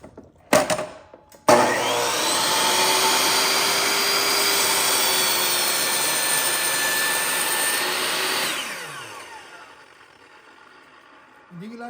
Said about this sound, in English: Do you like our dust collection?